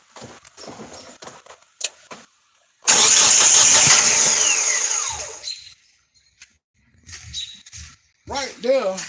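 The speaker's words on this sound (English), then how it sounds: "If I crank it over here, you're supposed to see some kind of fuel come out." A vehicle engine cranked over with no fuel reaching it, a loud sustained starter whirr for about three seconds that never catches, close by, with people talking before and after.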